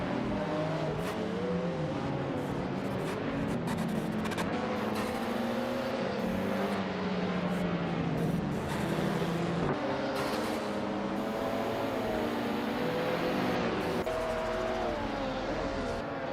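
Racing cars in a video game speed around the track, their engines droning and whining continuously at a steady loud level, with pitch sweeping up and down as they accelerate and shift.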